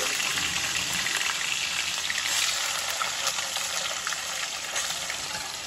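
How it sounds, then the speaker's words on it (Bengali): Potatoes frying in hot oil tempered with cumin seeds, dried chilli and bay leaf, a dense, loud, continuous sizzle with fine crackling throughout, heard close up with no talk. "দিয়ে দিলাম তেলে আলু"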